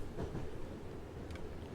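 Steady low rumble of a train rolling along in the video game A Taste Of The Past, with faint rhythmic clatter and no talk.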